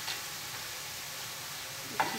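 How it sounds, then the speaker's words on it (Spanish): Bacon sizzles and crackles steadily as it is stirred in a frying pan, a soft continuous fry with a faint scrape near the end. "Seguimos aquí batiendo nuestro tocinito, ¿verdad? Hasta que suelte la grasita."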